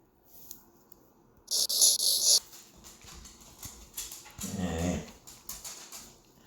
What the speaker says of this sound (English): You guys hear my dog? He's mad at me right now.